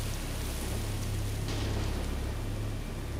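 Steady rain falls during a power cut in a Tamil horror film, a constant dense hiss with a low rumble underneath and no breaks.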